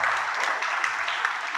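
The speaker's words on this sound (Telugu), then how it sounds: "మీ అందరి కోసం గట్టిగా ఒకసారి మీరే చప్పట్లు కొట్టుకోండి" An audience at a spiritual discourse event clapping together, a dense, steady burst of applause filling the whole moment, fairly close and even in loudness.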